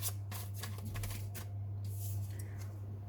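Tarot cards rustle and slap softly as they are shuffled and drawn, a steady close shuffling over a constant low electrical hum.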